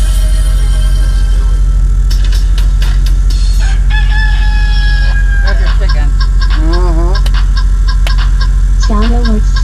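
A chicken remix sound alert on a livestream plays loud clucking, crowing and honking fowl calls with musical tones over a constant heavy engine drone, with voices mixed in.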